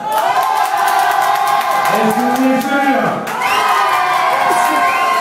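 A loud, excited crowd at a stage hypnosis show in Moulin de la Chaume shouts and cheers for an applause meter, a dense roar with a voice asking a question over it.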